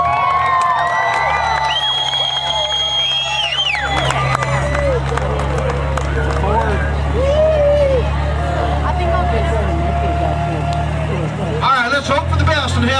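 A crowd cheers and shouts at an auto daredevil stunt show, with children's voices in the mix and a car engine droning low underneath, while an announcer talks over the noise for most of it.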